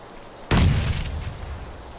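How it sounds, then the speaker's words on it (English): Grenade explosion in a battle royale shooter game, a single sudden loud boom with a short rumbling decay, alone with no talking. "That's me throwing a grenade."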